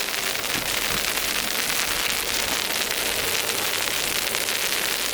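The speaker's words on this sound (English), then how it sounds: "That's not rain. That's all ice." Ice pellets drumming on an umbrella during a blizzard, a dense, steady hiss of countless tiny close impacts that holds without pause throughout, with no voices.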